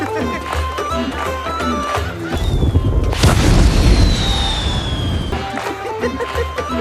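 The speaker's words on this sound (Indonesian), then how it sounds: "Sedangkan Merry dan Pippin mereka berhasil mencuri kembang api milik Gandalf yang lebih besar dan mereka menyalakannya di dalam tenda" In a Lord of the Rings film scene, a large wizard's firework is lit inside a tent. It gives a heavy boom and a long, sliding whistle lasting a few seconds, with busy film sound before and after.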